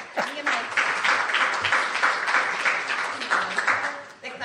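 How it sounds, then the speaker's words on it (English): Audience clapping in a lecture hall at an MIT Open Learning talk on AI in education, a dense, moderately loud applause that holds steady for several seconds and then briefly tapers off. "They're clapping that we were 10 years old"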